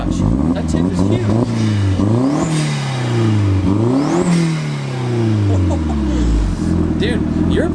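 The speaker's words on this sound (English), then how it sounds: "your blow-off valve sounds sick" A turbocharged BMW E36 M3 engine with a KO4 turbo revs up and down repeatedly, loud and close, with rising and falling engine pitch and hissing blow-off valve releases between revs; voices are heard in the background.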